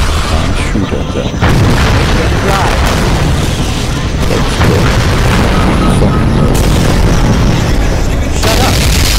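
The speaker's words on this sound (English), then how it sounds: "Just explosion." Explosions in an animated battle keep booming loudly and densely for about nine seconds, one heavy blast running into the next, with shouting voices mixed in.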